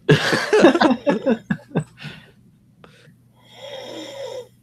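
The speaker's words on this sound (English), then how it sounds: "He's snoring." Snoring breaths rise and fall with a nasal rasp after some brief voices and laughter at the start, fairly close and moderately loud.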